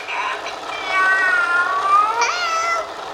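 A person imitates a cat's meow for a baby, producing a drawn-out, rising and falling mewing cry followed by a higher second meow, close and fairly loud with no other talk.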